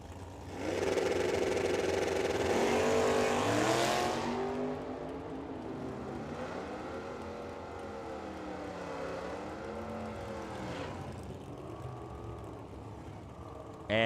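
A Mustang drag racing car at Firebird Motorsports Park accelerates down the track in the right lane, a loud broadband engine roar that swells then settles into a steady rumble with shifting pitch, with an announcer's voice over it.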